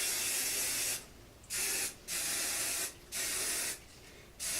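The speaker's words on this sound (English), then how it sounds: "I'm going to just give my hair a light spray around if I can find my hairspray" Hairspray mists onto hair in about five separate hissing bursts of uneven length, loud and close, with short quiet gaps between them.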